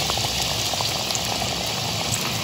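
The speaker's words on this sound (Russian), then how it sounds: "И добавляем водичку." Water pours into a kazan of Siberian-style pilaf with rice and dill, a steady close bubbling, gurgling wash that runs continuously without pause.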